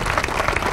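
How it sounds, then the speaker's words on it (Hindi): A crowd in Nagpur applauds to welcome the Rajtilak caravan, a brief, dense burst of many hands clapping together. "तालियों से स्वागत हो जाए।"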